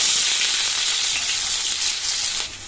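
Onion pieces, urad dal and cumin fry in hot oil for a brinjal fry, making a loud, dense, continuous sizzle close up that eases slightly near the end, with no voices.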